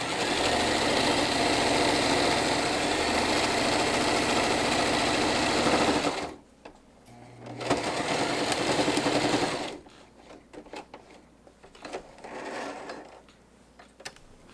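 A domestic sewing machine stitches a garment hem in a long, steady, loud run of rapid mechanical whirring. It stops briefly, then resumes for a few seconds before quieter handling noises follow.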